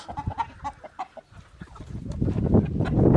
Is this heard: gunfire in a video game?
no